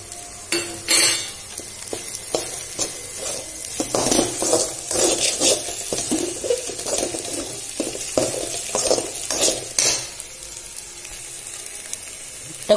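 Four eggs sizzle in a pan with cabbage and chili powder while a utensil stirs and scrapes in irregular bursts, the frying hiss steady and close with no talking.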